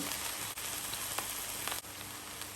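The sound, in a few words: garlic paste and spices frying in a pan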